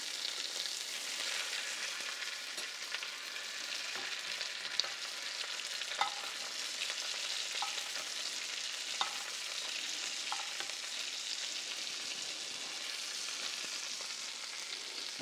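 Lobster fries in a pan with a steady bright sizzle and crackle, a few soft clinks from stirring or turning the pieces.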